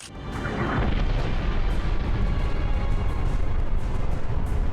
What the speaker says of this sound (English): The addition of target locators lets you call in missile strikes on the enemy.